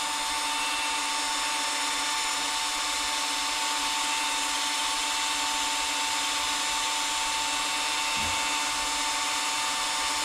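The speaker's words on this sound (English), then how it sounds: "You can speed the drill up." An old power drill runs continuously during a rebuild of 1940 front wheel brake cylinders, giving a loud, steady, high-pitched whine that never lets up.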